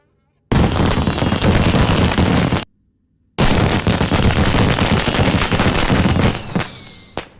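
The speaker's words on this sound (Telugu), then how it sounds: "టపాకాయలు బాబు వెళ్తున్నాయి" Firecrackers go off in a dense, loud barrage of rapid cracks and bangs that stops abruptly, leaves a short gap, then resumes just as loud and ends with a rising whistle.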